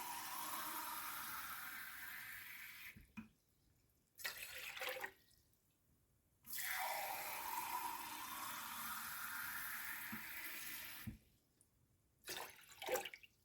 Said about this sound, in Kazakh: Міне 3 стакан су құйдық.